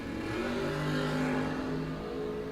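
Drag racing car revving at the starting line at a bracket series event, a steady droning engine hum held at even volume for a couple of seconds with no other sounds.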